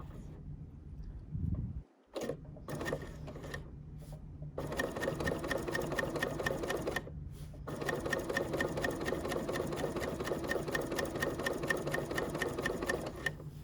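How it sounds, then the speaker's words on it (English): A sewing machine carefully double-stitches a fat-quarter tote bag in close, steady runs of rapid stitching, broken by brief pauses and a short start near the beginning. "it's going to look a little bit like double stitching, but you have to really take your time with this"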